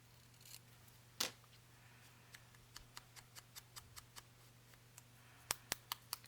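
Small scissors snipping along a paper tab for a crafted envelope, one sharp snip followed by a faint run of quick, evenly spaced clicks and a final few crisp cuts, close and quiet.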